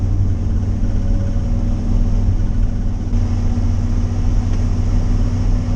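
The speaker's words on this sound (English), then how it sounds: "You hear a lot of road noise. The truck transmits a lot of road noise." Steady low road rumble and drone inside a moving truck cab, constant and unbroken for several seconds with no voices.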